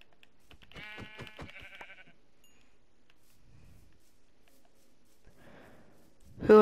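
Sheep in the Minecraft video game bleat in a quick run of repeated calls near the start, then a brief snort-like rustle and faint game sounds; a sharp thump closes it, with no talking.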